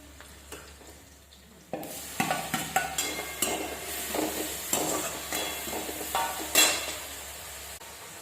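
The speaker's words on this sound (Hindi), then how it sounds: "तो अभी मैं इसको फ्राई कर रही हूँ।" Cut idli pieces frying and being stirred in a pan, a quiet start followed by steady sizzling and repeated scraping, stirring strokes close by.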